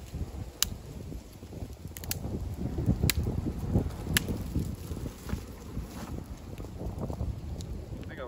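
Wind gusts buffet the microphone outdoors beside a small hobo stove heating a 6-inch cast iron skillet, a continuous rumbling roar with a few sharp knocks.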